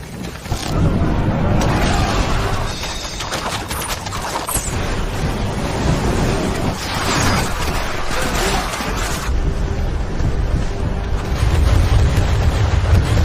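Heavy rumbling booms and crashing blasts roll through a noisy, chaotic battle din, with churning low-end and scattered bursts, loud and sustained.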